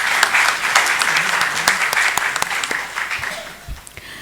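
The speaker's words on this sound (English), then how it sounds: "let us welcome our today's speaker, K.S. Naveen Kumar, with a huge round of applause" An audience at a national conference on GST applauds the day's speaker, with loud, dense clapping close by that tapers slightly toward the end.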